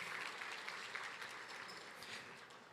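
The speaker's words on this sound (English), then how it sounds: "Let's give a round of applause for these three organizations and all the other organizations that are doing the work." A gala audience at CAIR-Chicago's 20th anniversary celebration claps steadily throughout, a dense, moderately distant wash of many hands in a large room.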